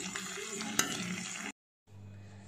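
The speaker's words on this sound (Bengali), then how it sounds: "গরম মশলা আর কিচমিচ দিয়ে ভাজবো ভালো করে" Raisins and whole garam masala frying in ghee give a close, crackling sizzle with a sharp tap. The sound cuts out briefly, then returns as a softer sizzle.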